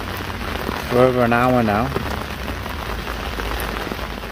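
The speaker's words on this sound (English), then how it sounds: "The rain is bucketing down." Heavy rain pours down steadily on an umbrella beside a fishing lake during a competition session at Pine Lake, Partridge Lakes Fishery, a dense constant patter with a voice talking briefly over it.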